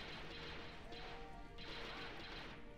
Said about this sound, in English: just hear these lasers here. Actual Star Wars sounds